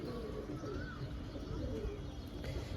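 Pigeons coo softly in a loft kept as a collection, low rumbling calls with an occasional chirp over a steady background hum, continuous and moderately faint throughout.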